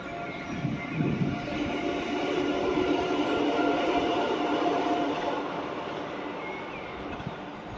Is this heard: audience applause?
no